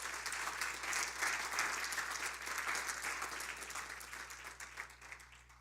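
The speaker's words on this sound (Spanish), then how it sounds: "Dele ese aplauso al Señor" A church congregation at a Sunday school service breaks into steady, dense applause that holds loud and even for several seconds, then thins slightly toward the end.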